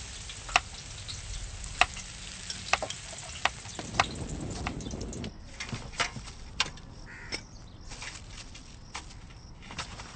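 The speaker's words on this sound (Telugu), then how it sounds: "నూనె ఎక్కువ కాగనివ్వకు, జంతికలు మాడిపోతాయి." Jantikalu, murukku snacks, frying in hot oil in a home kitchen, a steady sizzling hiss with sharp ticking pops scattered throughout and a denser bubbling burst partway through.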